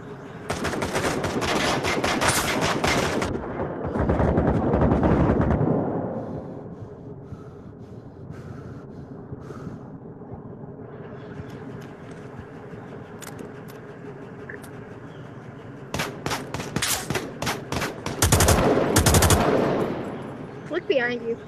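Light machine gun fire in the Onward combat game: long sustained bursts at the start and again near the end, loud and close, with a quieter stretch of ambient noise between and faint voices.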